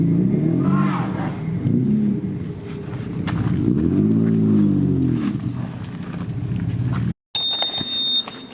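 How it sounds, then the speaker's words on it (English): A Nissan S15 with a Precision turbo exhaust drones loudly through acceleration pulls, its engine note rising and falling. It cuts off abruptly near the end, and a high beeping tone follows. "This exhaust sounds so good."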